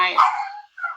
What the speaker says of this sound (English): sorry about that dog